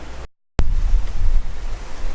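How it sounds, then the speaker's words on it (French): Wind gusts outdoors in a garden where a large fountain is being built, a loud steady roar buffeting the microphone that cuts out briefly, then returns and continues unbroken. "Bon là il y a un petit peu de vent donc ça va bien m'embêter"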